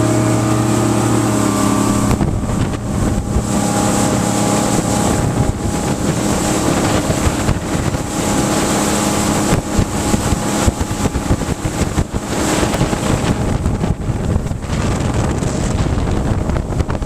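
A boat on sea trial runs up toward speed, its motor a loud, continuous drone under heavy wind buffeting for about seventeen seconds, the engine hum shifting as it accelerates.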